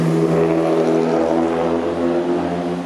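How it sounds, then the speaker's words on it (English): A car engine revs loudly on a city street, droning steadily and holding its roar, with no voices over it. "Look at guys revving engine, kind of loud."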